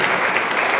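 A very short snatch of dense, steady applause from a church congregation, loud and close.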